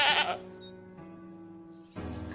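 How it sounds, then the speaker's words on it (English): A baby goat lets out a drawn-out, wavering bleat, loud at first and then sustained and thinner, followed by a second louder cry, with no talking. "The baby goat is crying."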